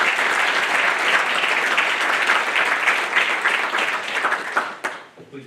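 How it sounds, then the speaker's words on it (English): Sustained applause from families and friends at a Navy nuclear field school graduation, a dense roar of many hands that holds steady and then fades out near the end. "Families and friends, please join me in a round of applause for the Navy's newest third-class petty officer."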